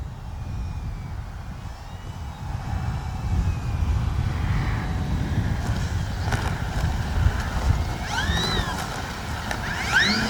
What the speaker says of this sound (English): I've lost count of how many times we've been taking off and landing.